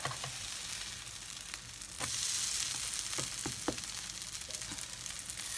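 Pancakes frying in a hot pan give a soft continuous sizzle that swells louder partway through, with a few close scrapes and taps of a spatula pressing them down; quiet and near, no talk.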